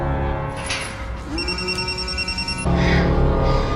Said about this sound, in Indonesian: sementara ponsel Cecil berdering